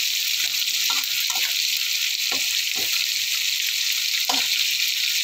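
Garlic and onion hit hot oil in a pan for a mixed-vegetable dish, giving a loud, steady sizzle with a few louder scraping stirs at intervals; nobody speaks.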